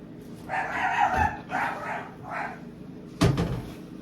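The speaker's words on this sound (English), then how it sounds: "So, that's what they're barking about." Several dogs bark in bursts, fairly close, with a few sharp yelps and a louder outburst near the end.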